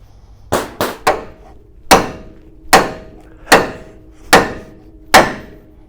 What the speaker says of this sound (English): You know what we need? Bigger hammer.